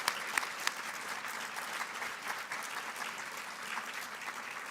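An audience claps for grant recipients at an evening awards event. The applause is continuous and moderately distant, with a few sharper claps near the start, and it holds steady throughout.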